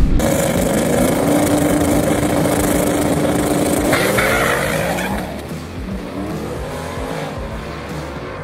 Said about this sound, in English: we blew the tires off, but the boost issue may be fixed